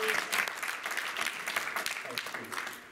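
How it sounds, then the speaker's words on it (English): An audience at a magic competition stage show breaks into loud, continuous applause that fades slightly toward the end, with a voice speaking over the clapping. "Round of applause, please."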